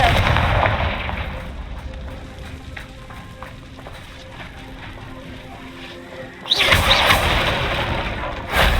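A Confringo blasting spell is cast in the Hogwarts Legacy video game: a booming, rumbling blast that fades into a quieter stretch, followed by a second loud burst near the end.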